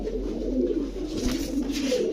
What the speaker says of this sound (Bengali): এই হচ্ছে অরিজিনালি পাকিস্তানি বাবরা কবুতর